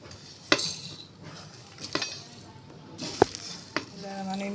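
Spices go into a mixer jar for an aromatic masala blend: a few sharp clinks and taps of spoon against metal, spaced out over a few seconds, fairly close and otherwise quiet.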